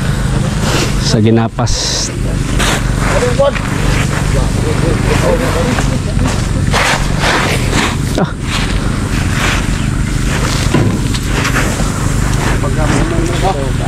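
A harvesting machine engine runs steadily in a rice field, a loud continuous mechanical drone with rattling throughout, while people talk over it.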